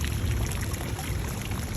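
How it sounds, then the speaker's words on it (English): Hot spring water pours steadily at a public filling station in Hot Springs, Arkansas, a continuous close splashing flow with no talk. "Some hot spring water."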